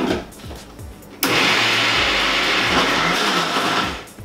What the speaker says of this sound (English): if you have a food processor or blender at home, just throw it in there and pulse it until it is coarsely ground.